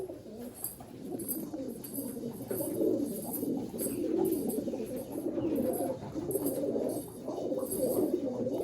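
Pair of Malwai pigeons cooing steadily in a loft, soft low throaty coos repeating continuously and close by over a faint high background hiss.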